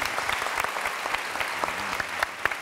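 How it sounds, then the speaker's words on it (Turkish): Studio audience at a Turkish television talk show claps for the band, a brief, fairly soft burst of scattered clapping with a few sharper claps standing out. "Bu arada orkestraya da bir alkış alalım"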